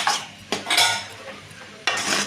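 Cabbage stir-fry with lentils being stirred in a pan, a few bursts of metal utensil scraping and clattering against the pan over a faint sizzle, close and without talk.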